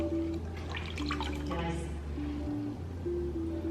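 Water trickles and drips as a sponge is squeezed over wet clay spinning on a pottery wheel, the patter close and soft beneath the steady hum of the wheel motor, with a voice speaking briefly.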